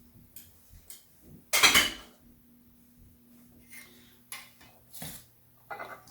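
A metal cake ring lifted off an orange almond cake makes a sharp metallic scrape and clank near the start, then lighter clinks and taps follow, close and fairly quiet.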